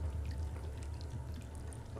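Water drips inside the space station in the 2017 video game Prey, a soft, steady trickle over a low, continuous ambient hum, fairly quiet and with no talking.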